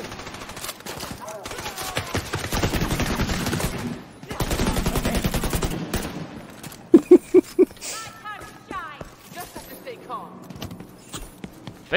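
Rapid automatic weapon fire in the video game The Division 2, dense sustained bursts followed by a few sharp separate shots, with someone talking over the shooting.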